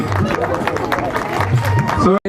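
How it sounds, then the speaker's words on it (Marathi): An audience at a devotional village program claps in a dense, sustained burst of applause with crowd noise and babble, stopping abruptly at the end. "जोरदार टाळ्या वाजवा"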